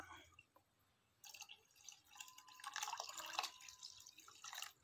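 Water poured into a pot of herbal cough remedy ingredients, starting with faint drips, then a louder, uneven splashing trickle that builds toward the end, close and without talk.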